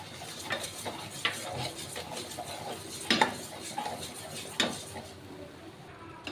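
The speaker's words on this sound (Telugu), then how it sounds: "మధ్యలో అయితే నెయ్యి వేసుకుంటూ మనం కలుపుకుంటూ ఉండాలి." Almond halwa is stirred with ghee in a pan, a spoon scraping and clinking against the metal in a steady run of close strokes with a few sharper knocks, over a faint background.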